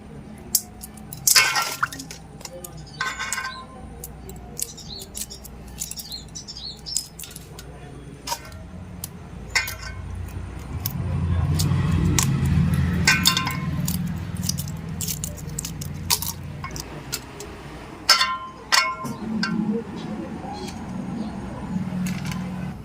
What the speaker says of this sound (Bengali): এবারে আমি ছাড়িয়ে নেব সেদ্ধ ডিম